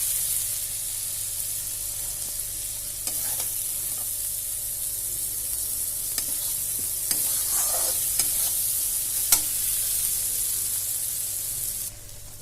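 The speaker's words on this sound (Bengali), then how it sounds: "মশলাটা ভালো করে ভাজা হয়ে গেছে।" Spice paste frying in a pan for bhola fish curry, a steady hiss of sizzling throughout with occasional scrapes and taps of stirring, close and continuous until it cuts off near the end.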